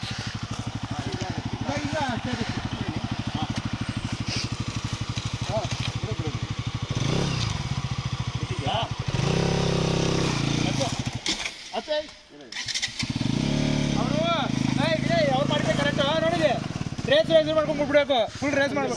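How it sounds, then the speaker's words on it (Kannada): Motorcycles, including a Hero Xpulse and a Bajaj Pulsar NS, ridden off-road on a rough trail near Chikmagalur: a close, loud, throbbing engine with revving and varying pitch, a short dip partway, and people talking over it. "ಫೈನಲಿ ಆಫ್ ರೋಡಿಂಗ್ ಹಚ್ಚಿಬಿಟ್ಟಿದ್ದೀವಿ ಗಾಡಿ."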